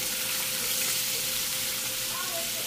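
Shrimp, cleaned and peeled, fry in melted butter in a pan for creamy jalapeño cheese shrimp, giving a steady, close, even sizzle that runs unbroken with no talk over it.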